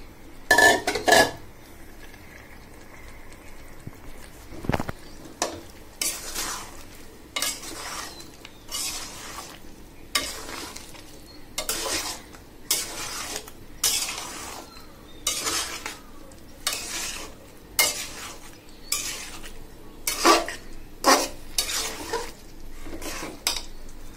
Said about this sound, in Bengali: এবার এগুলো ভালোভাবে কষা যাক।